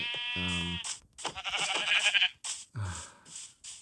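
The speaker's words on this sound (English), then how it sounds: "And there's a sheep." Sheep bleats from the video game Minecraft, a few distinct wavering cries in quick succession, loud and close with no voices over them.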